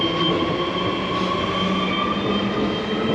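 Train at City West station in Perth, a loud continuous rumble of rolling rail cars with a faint steady tonal whine, heard alone throughout.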